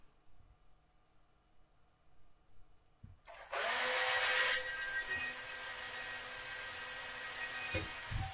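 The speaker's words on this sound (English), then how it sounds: "we'll drill our pilot holes for those." A power drill whirs into wood, drilling pilot holes, after about three seconds of quiet, a loud steady grinding whine that holds to the end.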